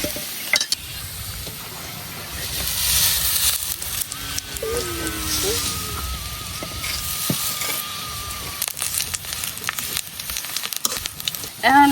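Dried jute greens hiss and sizzle as they go into a pan of oil with onion, chili and garlic already fried red, making a steady crackling fry with occasional stirring.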